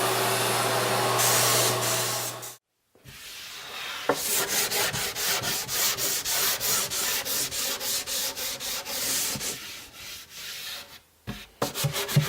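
Sanding block with 400-grit paper working a finish between coats on a built-in closet unit, a rhythmic series of close back-and-forth scraping strokes after a short pause, loud and steady.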